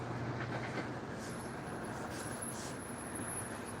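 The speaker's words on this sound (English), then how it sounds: "GO train. This is a two-story train." A double-decker GO train passes at a distance during a Toronto street walk, making a low, even rumble with a faint whine that continues for several seconds. No voices are heard.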